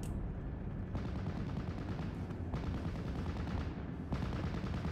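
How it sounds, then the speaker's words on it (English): Machine gun fire in a World War II strategy game sounds as a dense, continuous rattle of distant bursts under rumbling battle noise, fairly faint overall and without talk. "We've got a number of MGs here, so we do got quite a bit of suppression."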